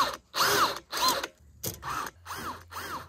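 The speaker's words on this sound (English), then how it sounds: "I started by pre-drilling the holes with a countersink bit." Power drill with a countersink bit boring pilot holes in PVC for a reptile enclosure, several short whining bursts that rise and fall in pitch, separated by brief pauses.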